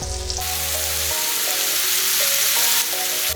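Sliced mushrooms fry in a pan, a loud steady sizzle close up that holds throughout, with soft background music playing along.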